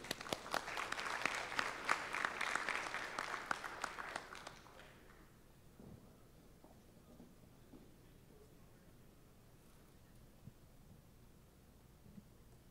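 Audience applause welcoming a lecture speaker on robot learning and clothing assistants, loud sustained clapping for about four seconds that then dies away to quiet room noise with a few faint stray claps.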